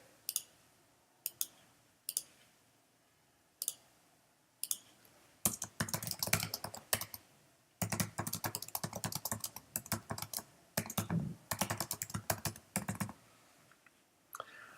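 Computer keyboard typing while using Google Apps for Education: a few scattered keystrokes at first, then long runs of fast, steady clicking, close and clear with no voices.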